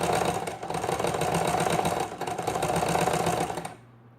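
A sewing machine stitches a fabric hem over pins, running steadily with a fast mechanical whir and rattle, briefly dipping mid-way, then stops near the end.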